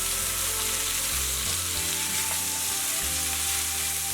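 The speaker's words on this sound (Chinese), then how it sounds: "把菜椒炒至断生就可以关火出锅了" Bell peppers and potatoes stir-fried in a wok with seasoning sauces, a steady, close sizzle and hiss of frying with faint stirring throughout.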